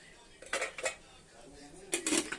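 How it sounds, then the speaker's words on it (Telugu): A lid set onto a cooking pot of gongura chicken curry, two quick clusters of metallic clanks and rattles, close and distinct against a quiet kitchen background. "మూత అయితే పెట్టుకుంటాను"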